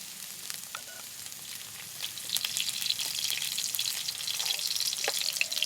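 Oil poured into a hot kadai where chhatu mushrooms were just fried gives a steady, moderate sizzle that grows louder and brighter partway through, with faint scattered crackles and no voices.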